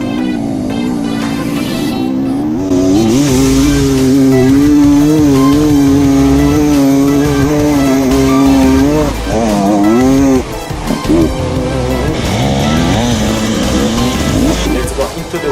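An enduro motorcycle at the Erzberg Rodeo held at full throttle up a long, steep hill, a loud, sustained high-revving engine drone that rises and falls in pitch as the rider fights for grip, close by throughout.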